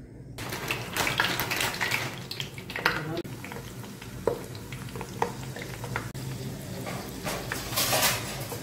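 Kebab frying in sunflower oil in a large pan produces a steady, moderately loud sizzle with scattered pops and stirring clicks, continuing throughout.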